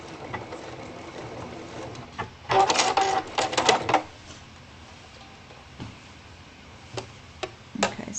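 A sewing machine stitches a shirt cuff with back stitching right to a notch, running in a loud burst of rapid stitching mid-clip with a few short clicks and taps scattered before and after in a quiet room.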